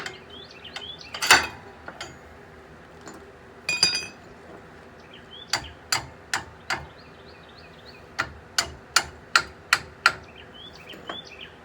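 A socket wrench with a 21 mm socket ratchets on the bolts of a leveling kit on a 1999-2004 Ford F-250 truck, with scattered metallic clinks, then several short bursts of quick, crisp ratchet clicks, close up and without speech.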